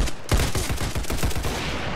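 Rapid automatic MP7 fire in a Roblox shooter game, a steady close burst of about a dozen sharp shots over two seconds with no talk.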